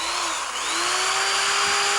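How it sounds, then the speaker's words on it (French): An electric drill whirs on a Sunday morning at a neighbour's home, a loud steady high-pitched whine that rises slightly in pitch and runs continuously for two seconds. "Perceuse."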